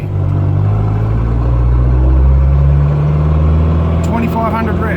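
A 4x4 vehicle engine drones loudly and steadily in gear around 2500 to 3000 rpm, its low rumble rising slightly in pitch, with a brief mechanical rattle near the end.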